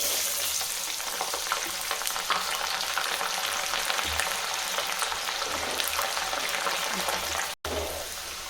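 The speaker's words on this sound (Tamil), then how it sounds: "இப்போ பூண்டு சேர்த்துக்கலாம்." Garlic frying in hot oil, a dense, even crackle and sizzle that continues for several seconds, close and moderately loud, with one brief dropout near the end.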